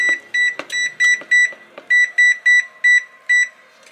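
A kitchen timer beeps in about eleven short, evenly spaced electronic bursts, loud and clear, with a brief pause partway through.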